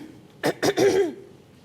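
Three quick, close coughs in a row, the last one drawn out and throat-clearing, loud against a quiet kitchen background.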